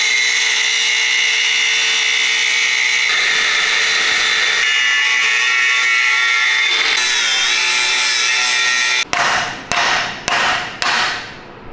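A power tool grinds through the old diff guard on a Land Rover Defender 110, a loud, close, sustained whine that shifts pitch, followed by several sharp metallic hammer blows.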